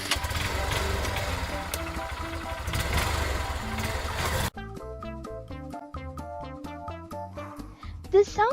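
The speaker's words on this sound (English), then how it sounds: "the sound of motorcycles' engines" Motorcycle engines rumble and rev in a steady, gritty drone for roughly four seconds beneath cheerful background music, then stop abruptly, leaving only the tune.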